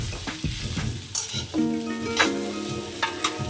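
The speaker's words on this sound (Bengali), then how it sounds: "আম আর আলু একসঙ্গে কষাতে হবে" Raw mango that was fried earlier is sautéed with potato and turmeric in a pan. A spoon or spatula scrapes and stirs in brief, repeated strokes over a steady close sizzle, and there is no talk.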